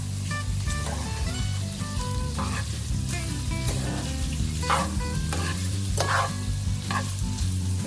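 Steak strips and vegetables in sauce are stirred steadily in a pan, with a constant sizzle under repeated scraping and clinking strokes, close and fairly loud, with no talking.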